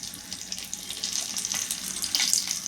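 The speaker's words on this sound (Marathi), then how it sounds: "आता आपण लाल मिरच्या घालत आहोत" Red chillies sizzle in hot oil already holding mustard seeds, cumin, asafoetida and curry leaves for a khichdi tempering, a close, steady crackling fry with bright spitting pops throughout and no voices.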